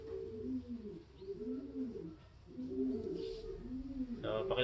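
A pigeon coos nearby in repeated low, rolling phrases, about four in steady rhythm, with faint background noise and a brief rustle at the end.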